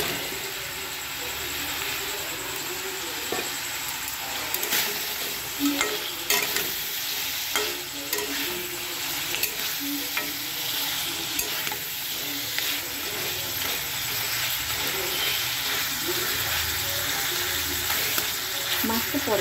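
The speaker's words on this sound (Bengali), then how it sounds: "এবার আমি মাছগুলো দিয়ে দেবো" Fish pieces go into a spice masala that has already been fried down with potatoes, for a muri ghonto dish, giving a steady sizzle and frying hiss with stirring scrapes throughout, close and continuous.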